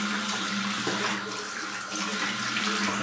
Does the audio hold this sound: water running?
yes